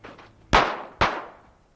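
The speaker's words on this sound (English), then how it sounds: "Why'd you shoot him, Sheriff?" Two loud gunshots fired in quick succession during an Old Tucson Studios western stunt show, each a sharp crack with a decaying echo, about half a second apart.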